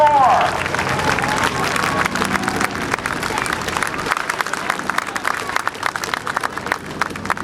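Crowd applause at a naval air station airshow after a Stearman biplane performance, scattered clapping and crowd noise rising after an opening tone, spread out in the open air.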